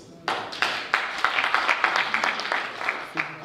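Audience clapping at an educational management conference, starting suddenly and building into steady, fairly close applause with distinct individual claps throughout, fading near the end before a final brief flurry.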